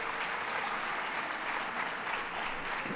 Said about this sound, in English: let's give a big round of applause to Bonnie Atkins for a great job